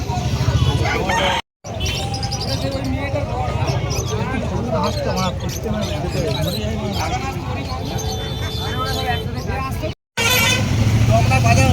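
Chickens cluck and a rooster crows amid a busy crowd of voices at a market, with occasional horn toots in the background.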